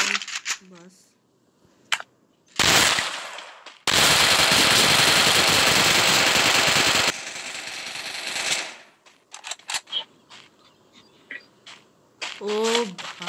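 Shotgun fire in a video game: sharp loud blasts and a long dense burst of gunfire, separated by quieter gaps and scattered clicks, with people talking at times.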